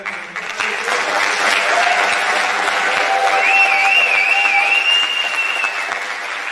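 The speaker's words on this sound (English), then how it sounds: "send them off with a final round of applause for them" Loud, dense applause fills a room at an award ceremony, sustained for several seconds, with a high whistle rising and wavering over the clapping midway through.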